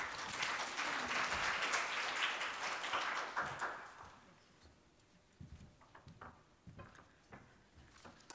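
An audience at an academic keynote breaks into applause, a dense wash of clapping that swells for a few seconds and then thins into scattered claps.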